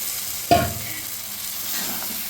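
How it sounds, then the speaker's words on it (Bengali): Potatoes and pointed gourd dropped into spice paste frying in oil: one sharp close clatter as they land, followed by a steady sizzle with light stirring. "এবার ওই মশলার মধ্যে দিয়ে দিচ্ছি আলু এবং পটলগুলো"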